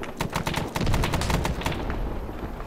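Bursts of automatic gunfire ring out in the Vietnam-era video game ArmA 3 SOG Prairie Fire, a loud rapid rattle of shots with overlapping volleys and distant reports; no talk.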